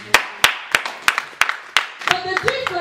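Congregation clapping in a church service, sharp claps in a steady rhythm of about three per second, with a few voices rising toward the end.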